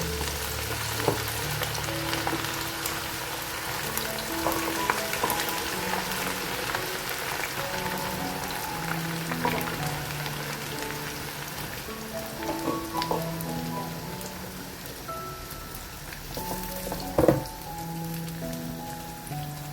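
Karela (bitter gourd) pieces fry in oil in a small kadhai for keema karela, a steady dense sizzle and crackle running throughout with a few sharper pops, over soft tonal background music.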